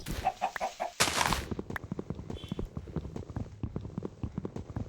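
Chickens in a block survival video game cluck in short, rapid bursts, close and fairly quiet, after a brief louder noise at the start, with no talking.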